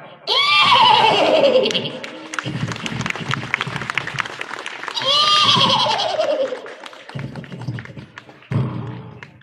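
A voice imitates a horse's neigh, giving two loud whinnies with falling pitch. Rhythmic tapping and thumps follow each call, and the performance comes from a religious discourse given on Mahatma Phule's birth anniversary.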